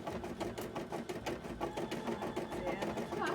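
An embroidery machine used for beading and cosplay work runs close by, giving a loud, rapid, steady mechanical stitching clatter, with people talking over it.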